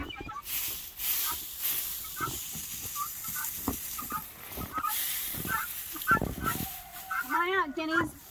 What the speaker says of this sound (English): Come on out, guineas.